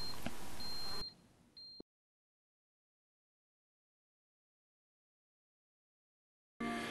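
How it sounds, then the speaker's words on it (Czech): Megger MFT1800 installation tester sounding its voltage-present warning: a thin, high electronic beep, two short tones in quick succession amid clicks, followed by silence. "Vidíte jak vizuální, tak akustické upozornění o přítomnosti napětí na vedení."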